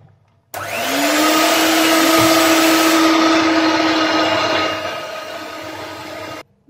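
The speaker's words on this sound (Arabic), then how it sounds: "ونستمر في التطراب." An electric mixer whirs steadily while beating cupcake batter made with milk and oil, starting abruptly, holding a loud even drone for several seconds, then dropping in intensity before cutting off, with no talking.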